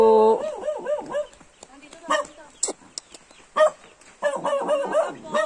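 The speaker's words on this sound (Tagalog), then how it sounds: "May aso po." A dog barks and whimpers repeatedly nearby while people talk over and between the barks.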